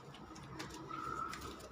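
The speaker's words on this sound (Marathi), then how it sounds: "आम्ही चाललो आहोत आता समर्थाची कबूतर बघायला." Pigeons at a rooftop loft giving a soft, brief coo against quiet background noise.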